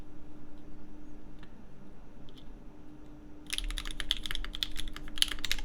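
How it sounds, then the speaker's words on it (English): Typing on a Qwertykeys QK65 Mk3 keyboard fitted with case foam: a quick run of close, crisp keystroke clicks that starts partway through after a quiet stretch with a low electrical hum. "you can try typing on it now with foam"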